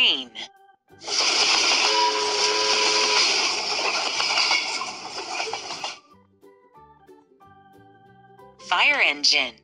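Train passing with a hissing, rumbling rush for several seconds and a whistle tone riding over it, fairly loud and close; a voice speaks briefly before and after.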